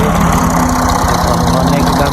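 A tractor engine idles steadily at close range in a village setting, a continuous low, chugging drone that fills the whole stretch without a break.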